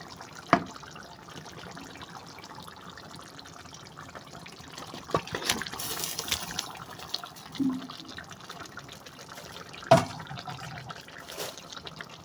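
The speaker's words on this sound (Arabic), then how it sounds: "حطينا الفراخ على البطاطس بالصوص بتاعها" Chicken sauce is poured over potatoes in a baking tray, with soft wet trickling and dribbling alongside a few sharp knocks and clatters from the tray.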